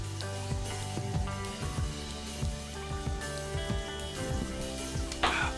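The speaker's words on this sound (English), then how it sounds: "Are you enjoying the sizzle?" Tomatoes and spinach sizzle steadily in a pan for Tuscan shrimp, a dense, close crackle with scattered pops and stirring clatter throughout.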